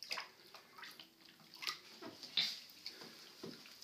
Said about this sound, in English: See, that's just a little water.